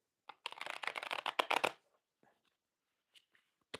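A deck of playing cards is riffle-shuffled once in a quick, dense burst of flutters, followed by a few faint taps and shuffles of cards being squared up, close and alone.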